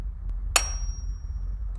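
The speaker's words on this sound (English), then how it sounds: "Position the axle into the Capnut and hit it hard with a hammer one time." A single sharp hammer strike drives a capnut onto a wagon axle, giving a bright metallic clang with a short ringing tail over a low background hum.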